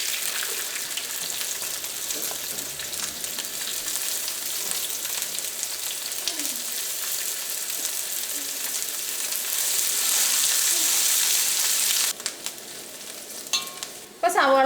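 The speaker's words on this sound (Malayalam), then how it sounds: "ഇനി നമുക്ക് ഏറ്റവും ആദ്യം സവോള ഇട്ടിട്ട് വറുത്തെടുക്കുക." Onions frying in ghee for Malabar ghee rice, a steady dense sizzle with stirring that holds throughout and grows louder and brighter toward the end, with a few sharp clatters at the close.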